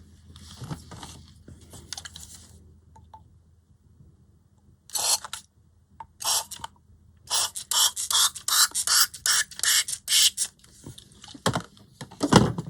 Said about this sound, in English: This is more of a mister. That one is quite powerful,